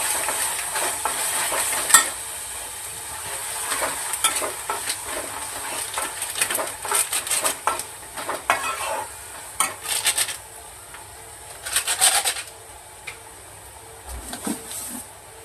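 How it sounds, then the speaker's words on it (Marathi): Paneer and cashews fry in masala in a pan with a soft, steady sizzle, broken by repeated scraping and clinking from a spoon stirring against the metal, with no talking. "हे पनीर ते छान मसाला भाजला गेलेला आहे आता मी मसाला ॲड करते"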